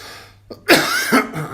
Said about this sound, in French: pardonnez-moi si je tousse encore